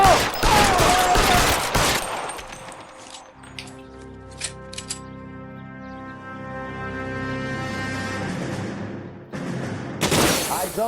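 Bursts of rapid gunfire crackle in an L.A. Noire shootout, a dense volley at the start, a few isolated shots and a tonal musical stretch in the middle, then another loud burst at the end.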